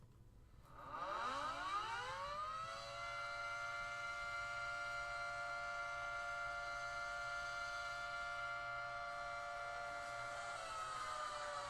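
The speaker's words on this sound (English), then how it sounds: "let's listen to the Quebec Nordiques horn. It's just a siren." The Quebec Nordiques NHL goal horn, a siren, winds up from a low growl to a steady, loud sustained wail that holds without a break and begins to dip near the end.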